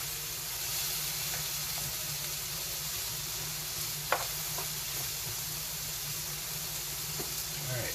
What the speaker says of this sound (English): as you can see, the onions are starting to caramelize